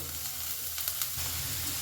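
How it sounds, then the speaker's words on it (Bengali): Chopped carrot and capsicum fry in butter in a pan, giving a steady, soft sizzle that runs through the short clip, with a couple of faint stirring clicks near the middle and no voices. "ভালো করে একটু মিনিট খানেক ধরে একটু ভাজা ভাজা মতন করে নেব"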